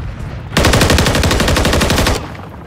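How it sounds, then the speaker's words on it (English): Automatic gunfire in Call of Duty: Modern Warfare, a loud, rapid, unbroken burst of shots lasting well over a second before cutting off to quieter background. "Taking effective fire."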